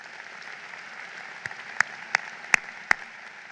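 A handful of sharp, isolated claps ring out at a university commencement ceremony, a few distinct slaps spaced roughly evenly over quiet room tone rather than full applause.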